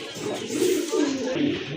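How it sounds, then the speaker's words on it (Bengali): Pigeons at a pigeon market coo in soft, repeated throaty rolls, three close swells over a light background murmur. "মাশাল্লাহ আরেক জোড়া কবুতর"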